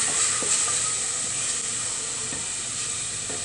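Beef searing in the pan of a pressure cooker, being browned unseasoned before making yakisoba. A steady, close sizzling hiss continues evenly throughout, with no one talking.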